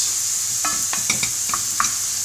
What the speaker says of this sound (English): Frying the meat takes about 5 to 8 minutes. Stirring it and breaking it down so it's not stringy.